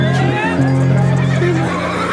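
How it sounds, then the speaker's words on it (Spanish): Horses in a pen at a rodeo event in Tapalqué give a loud, close whinny with a wavering pitch, heard under someone talking over a loudspeaker. "Se están moviendo medio solos los caballos ahí adentro."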